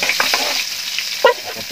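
Garlic sautéing in a pan for coconut-milk cassava leaves with anchovies, a steady close sizzle with brief stirring scrapes and a sharp clatter near the end.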